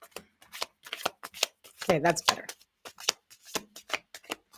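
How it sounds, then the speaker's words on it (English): Tarot cards being shuffled by hand in rapid riffling and slapping bursts close to the listener, with a person talking briefly over the shuffling. "I've been practicing new shuffles, doing my thing, people."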